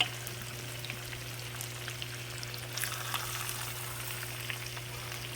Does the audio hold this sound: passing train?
no